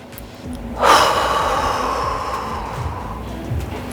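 A deep breath taken during a mobility exercise session: one sharp, loud inhale that opens into a long, breathy exhale trailing off over a few seconds, close to the microphone.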